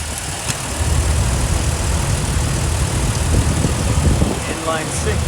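Inline-six engine of a Jeep Wrangler Unlimited Rubicon running at idle, an even low drone throughout with light handling sounds and a faint chirp near the end.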